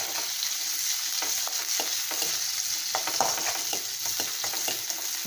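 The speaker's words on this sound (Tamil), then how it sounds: "வதங்கிடுச்சு, நல்லா வதங்கட்டும்." Onions sauté in oil in a pan for a Kerala-style kara kuzhambu curry, giving a steady, close sizzle with occasional stirring scrapes and no talking.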